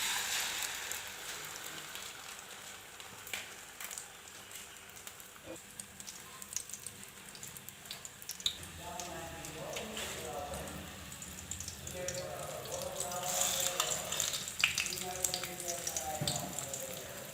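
Bread toast frying in a pan over a medium to low flame, a steady soft sizzle and crackle running throughout, with talk over parts of it.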